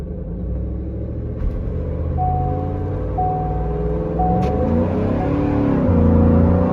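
Ford F150 pickup with a Detroit Locker rear end doing a burnout, heard from inside the cab: a loud, steady engine roar and rumble that builds and climbs in pitch toward the end, with no talk over it.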